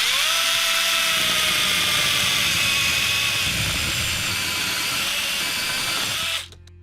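A Volpi KVS5700 pole chainsaw cutting branches outdoors, its motor running at a loud, steady high-pitched whine with slight shifts under load, then cutting off abruptly near the end.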